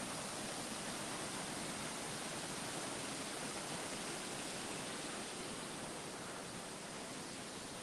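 A waterfall at Disney California Adventure, in a theme park area that used to be a parking lot, gives off a steady, continuous roar of rushing water that holds even and unbroken throughout, with no voices over it.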